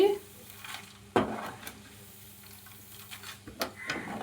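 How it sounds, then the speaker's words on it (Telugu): Chana dal fries in oil with mustard seeds and chilies, making a soft sizzle with occasional spoon scrapes and knocks against the pan. A voice is faintly present. "ఇప్పుడు మనం పచ్చిపప్పు వేసుకున్నాము చూడండి పచ్చిపప్పు కాలిపోతున్నాయి ఇలా కాలాలి"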